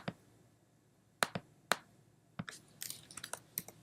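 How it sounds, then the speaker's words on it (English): Several sharp computer keyboard key taps, isolated clicks early then a quicker cluster of keystrokes, close and fairly quiet with no talking. "we're going to type 50 in the location text box"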